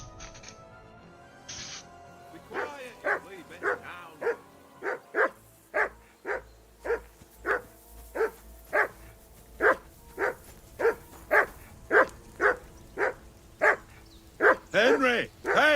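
A dog in the Kingdom Come: Deliverance II video game barks repeatedly, with a steady run of sharp, evenly spaced barks. Faint game sounds come before it, and a brief voice can be heard near the end.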